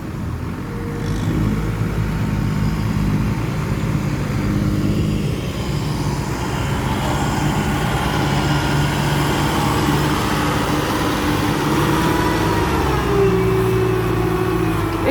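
A farm tractor fitted with an Isuzu NPR 115 engine runs steadily, a loud close rumbling drone that rises slightly in pitch toward the end as it revs, with no talk over it.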